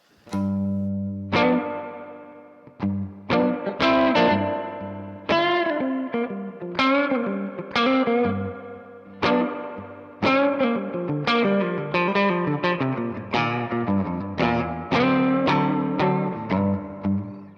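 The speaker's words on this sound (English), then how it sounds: "I really like it for just like a subtle Fendery kind of spring reverb vibe" An electric guitar plays a melodic run of plucked notes and chords, each ringing out with a soft, springy Fender-style spring reverb tail, steady and fairly loud.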